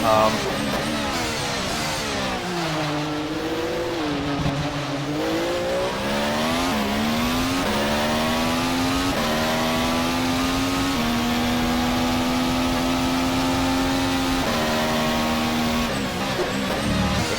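A 2014 Formula One car engine in the rFactor racing game screams at high revs, climbing and dropping in pitch through quick, seamless upshifts and downshifts, loud and continuous throughout.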